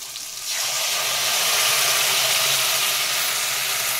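Ground poppy seed paste hitting a hot pan while cooking fish, bursting into a loud, continuous sizzle after a quieter moment, close and steady throughout.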